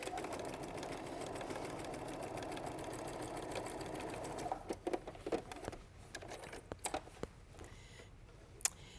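Sewing machine stitching quilt pieces, running steadily and close for about four seconds, then stopping and giving way to scattered clicks and fabric handling noises.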